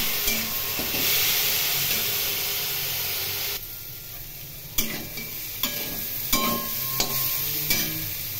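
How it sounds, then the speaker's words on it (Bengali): Potato and bitter gourd pieces frying in a pan, a loud continuous sizzle and hiss with repeated scraping stirs and clinks of a utensil against the pan, close and without talk. "আলু এবং উচ্ছে একটু ভেজে দিতে হবে।"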